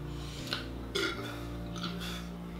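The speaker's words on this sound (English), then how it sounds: "As you can see by that little burp succession of things" A man burps in a quick succession of short, close belches after fast gulps of fizzy Laker Ice lager from Waterloo Brewing Co., with a steady low hum underneath.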